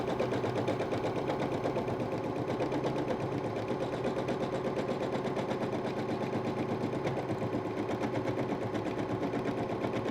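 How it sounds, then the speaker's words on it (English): An embroidery machine stitches freestanding lace ornaments, producing a steady, fast mechanical chatter that runs evenly and continuously at moderate volume. "it just helps keep that fabric from shifting as it starts to stitch"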